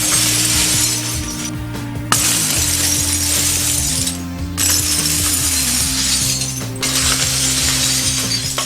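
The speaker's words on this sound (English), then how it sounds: "the person before me, the glass was cracking lots" Broken glass crunching and crackling underfoot during a glass walk at a firewalk instructor training, a dense continuous grinding over a low droning tonal background, with a few brief dips.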